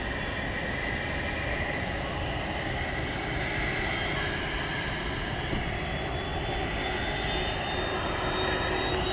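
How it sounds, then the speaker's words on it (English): A Boeing 737-800 jet spooling up for takeoff at an airport, a steady broad roar with a thin rising whine, constant and fairly loud, no talking. "you hear a plane revving up"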